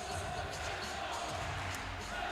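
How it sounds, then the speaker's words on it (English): Basketball fans fill an arena in Jacksonville at a women's college game with a steady, distant crowd murmur and noise that holds throughout. "The fans who were able to make it out on a rainy Saturday here in Jacksonville making a ton of noise this afternoon"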